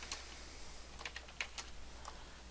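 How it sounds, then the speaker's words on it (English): Light plastic clicks of computer keyboard typing in a quiet room, a handful of sparse, irregular keystrokes with a few sharper taps, faint and close with no voices. "We highlight, delete, and type something."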